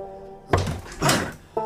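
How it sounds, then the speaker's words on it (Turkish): Three heavy knocks on a door, closely spaced about half a second apart, land loud and near over a quiet room with a faint steady hum. "Kapıyı çaldık."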